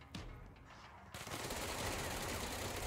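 Gunfire from the action video game Control, a brief burst, then a dense sustained volley of shots that stays loud and close for the rest of the moment.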